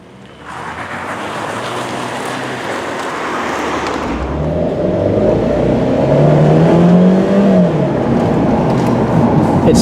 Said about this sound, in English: It's got that raspiness that is certainly a signature of the Fiat Spider